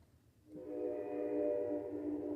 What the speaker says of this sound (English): Yes, the train horn is confirming.